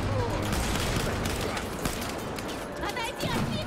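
Rapid video game gunfire from Battlefield 4's Singapore mission crackles in a continuous, dense barrage, with bursts layered over steady loud background action and occasional voices.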